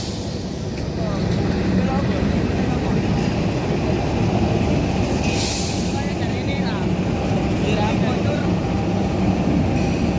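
The Argo Bromo Anggrek locomotive hauling ten stainless steel cars, a loud, steady rumble and roar of engine and wheels running nonstop with a few hissing bursts, while someone talks over it.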